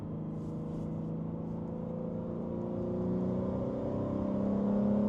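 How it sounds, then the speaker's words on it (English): A BMW M3 G80's exhaust drones steadily while the car drives down the road, the tone swelling a little louder toward the end, with no talking. "You have to be able to hear the sound of that exhaust as you're driving down the road."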